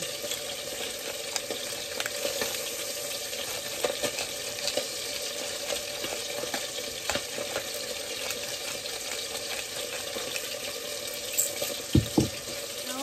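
Eggplant omelette (tortang talong) fries in a pan with a steady, dense sizzle and crackle throughout, with a few louder pops and light clinks near the end.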